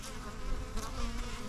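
Package honey bees buzz steadily and close by, a dense droning hum of many insects with a few louder swells as individuals pass near, no voices over it.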